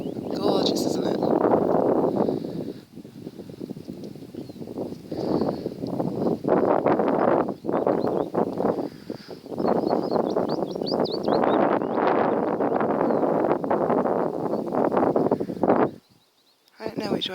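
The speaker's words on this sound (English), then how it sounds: "It might be a bit windy just whilst I show you" Gusty wind buffets the microphone at an Ilkley Moor quarry, with rough, rumbling bursts that come and go under continuous talking and briefly drop away near the end.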